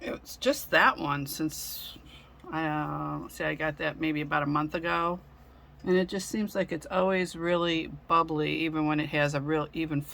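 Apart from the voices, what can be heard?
No everyday noises stand out.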